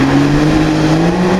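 An engine revs loudly and steadily with a sustained droning tone that climbs slightly in pitch, close by, before a Honda motorcycle's run at a hill event near the village of Shiroka Laka.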